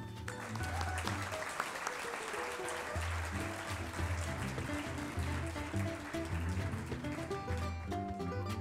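An audience at an academic year inauguration ceremony applauds steadily throughout, with background music or tonal sound underneath and faint voices in the hall.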